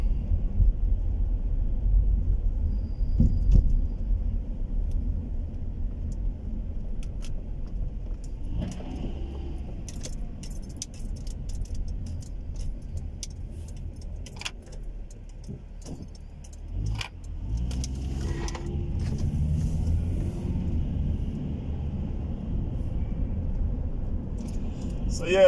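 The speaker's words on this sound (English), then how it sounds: "this is a night driving video in the UK" A car drives at night through Luton in the UK, with a steady low engine and road rumble from inside the cabin, some rattling and clicking, and occasional passing sounds.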